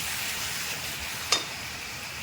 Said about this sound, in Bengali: আবার একটু জল দিয়ে আবার একটু নাড়াচাড়া করে নেব